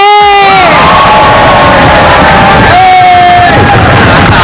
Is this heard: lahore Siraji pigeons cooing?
no